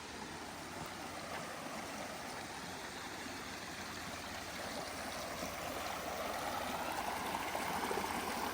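A woodland stream in the deep forest of North Georgia flows steadily, a continuous close rushing and gurgling of water that grows slightly louder toward the end, with no voices.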